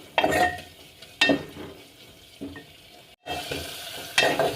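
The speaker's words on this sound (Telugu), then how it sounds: "కర్రీలో వేసుకొని బాగా ఫ్రై చేద్దాం" Prawns frying in a curry pan for a tomato prawn curry, with loud bursts of stirring and scraping over a steady sizzle, the spoon striking about four times before the frying hiss carries on.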